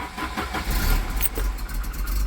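Volvo 740 engine cranking and catching after an alternator replacement, a rough mid-pitched turnover settling into a loud steady running rumble close by.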